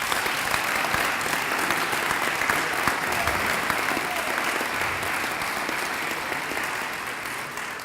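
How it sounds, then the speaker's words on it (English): An audience applauds the Western New York delegation at a candidates' forum, steady even clapping throughout, moderately distant and uniform, with no talking over it. "I think the Western New York delegation deserves a round of applause."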